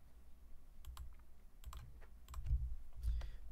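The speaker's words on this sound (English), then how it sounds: "I'm typing it in as I speak right now." Keystrokes clatter on a computer keyboard in bursts of quick taps, fairly close and moderately loud over a low background hum, with no talking.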